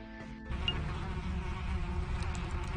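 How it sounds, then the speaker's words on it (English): Buzzing bees in the video game Tales of the Neon Sea: a continuous low insect drone that starts after a brief lead-in and holds steady at a soft, even level. "This sounds like bees."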